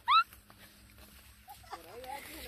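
A dog gives a short, high whining yelp at the start, followed by quieter rustling and faint voices outdoors at night.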